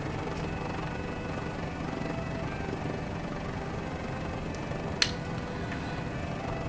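Mini 500 helicopter lifting off in Microsoft Flight Simulator, a steady rotor and engine drone with fast rhythmic chopping, continuous at moderate level, with a sharp click near the end.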